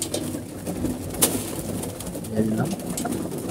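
Pigeons coo softly inside a loft, their low calls rising now and then through a steady wash of background noise.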